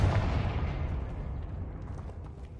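A Confringo blasting spell explodes in Hogwarts Legacy, a single heavy boom with a deep rumbling tail that slowly fades over a couple of seconds.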